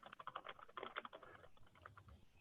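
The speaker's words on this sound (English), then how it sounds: "I can hear him typing." Quiet, rapid keyboard typing, a quick run of light key clicks that slows and fades toward the end.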